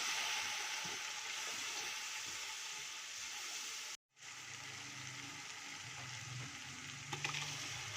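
Spices fry in a pot with a steady, soft hiss that cuts out for a moment in the middle and then resumes, along with a faint low rumble and an occasional light clink.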